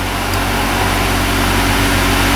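A Chevy Impala engine idles steadily with a constant low rumble and hum, running alone without any voices.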